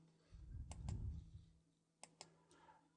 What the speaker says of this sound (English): click on the drop down